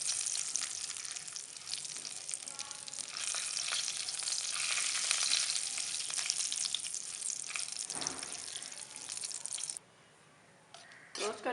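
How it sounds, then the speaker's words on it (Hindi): Coarsely crushed almonds, pistachios and cashews roast in a pan over a medium-low flame, giving a steady close crackling sizzle with stirring scrapes that runs continuously before cutting off near the end. "ये बादाम पिस्ते काजू हमने कूट लिए हैं मोटे मोटे, इसमें डालकर थोड़े से रोस्ट कर लेंगे"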